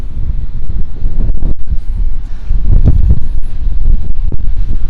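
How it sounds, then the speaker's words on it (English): Strong wind on Caleta de Fuste beach in Fuerteventura, buffeting the microphone in heavy, continuous rumbling gusts that swell and dip over a few seconds, with no voices. "Wow, this is super windy."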